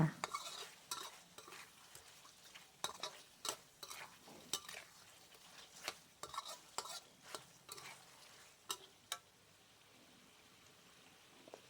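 Chicken wings stir-fried in a wok with oyster sauce and seasoning sauce, a spatula scraping in quick irregular strokes over a soft sizzle, close but quiet.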